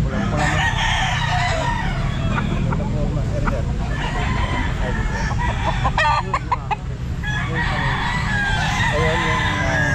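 Gilmore hatch cross rooster at a pet market crows loudly and close several times, with clucking from other fowl and market chatter running underneath.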